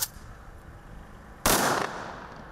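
A volley from a military gun salute at an outdoor memorial ceremony gives one loud sharp report that rings out and decays over a steady background, with no voices.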